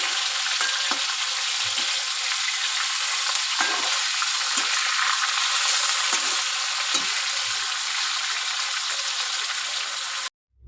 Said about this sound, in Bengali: আজকে একটু ভেজে রান্না করবো